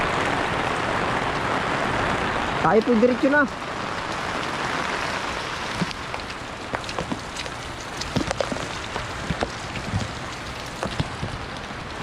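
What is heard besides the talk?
heavy rain pouring down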